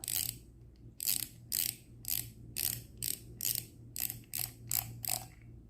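Ratcheting clicks as the drag knob of a Banax ISO 5000 fishing reel is unscrewed counterclockwise, about a dozen crisp, close clicks in short rhythmic bursts over quiet background hum.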